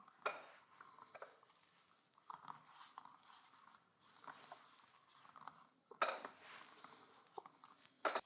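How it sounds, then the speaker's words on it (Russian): Cheese and ham are folded into muffin batter with a spatula, making quiet, irregular scraping and sticky dabbing sounds with a few sharper clinks against the bowl. "Замешиваем уже при помощи лопатки сыр с ветчиной вместе с тестом"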